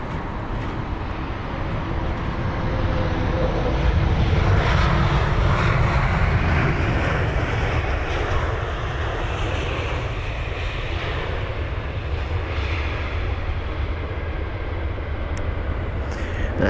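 An Airbus A320 lands on runway 27 right at Heathrow with a loud, sustained jet roar that builds and then spreads into a broad rumbling rush as it passes close by, without any voices.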